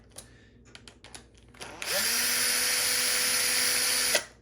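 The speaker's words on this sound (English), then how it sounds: "So you just get a screw gun with a 1/4 inch hex bit and you can unthread these." A screw gun with a 1/4 inch hex bit unthreads screws from a bathroom exhaust fan. A few light clicks and taps come first, then a close, steady, high-pitched motor whine runs for about two seconds before stopping abruptly.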